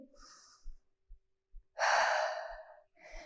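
A person breathes heavily while cooling down after a dumbbell Tabata workout, with soft quick breaths followed by one long loud exhale and another breath starting at the end.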